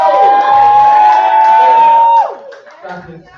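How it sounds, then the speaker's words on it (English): A crowd at a poetry slam cheers for Olivia, led by one loud, sustained whooping voice that rises steadily for about two seconds, then breaks off into scattered, quieter crowd noise. "Keep that round of applause going for Olivia"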